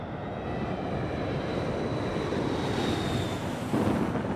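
A descending airliner's engines give a steady, even drone with broad rushing wind noise that keeps going without a break.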